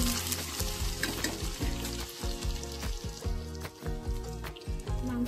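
Pieces of mutton fry in oil with garlic paste in a pan, a continuous close sizzle with regular stirring scrapes and clanks of the spoon against the metal.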